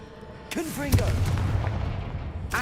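A Confringo fire spell bursting in the video game Hogwarts Legacy, a deep booming explosion with rumbling tail, preceded by a brief voice and followed by a sharp burst at the end.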